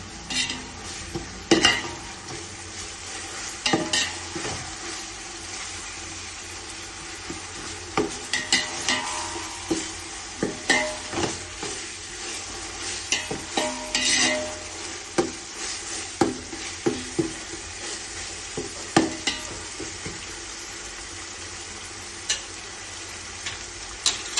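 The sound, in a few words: sautéing onions in a pan for chicken biryani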